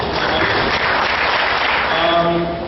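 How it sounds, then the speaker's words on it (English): Audience at an entrepreneurs' week event in Sri Lanka clapping after a speech, a dense, loud burst of applause that holds steady for a few seconds. "Round of applause, guys, for the fantastic speech."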